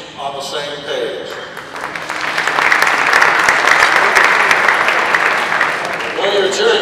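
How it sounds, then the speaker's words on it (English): An audience at a baseball research conference keynote breaks into applause that swells and holds loudly, then fades as a voice returns at the start and end. "you're cheering"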